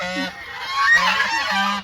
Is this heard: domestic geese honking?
yes